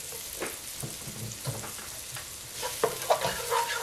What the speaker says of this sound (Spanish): Sofreímos bien.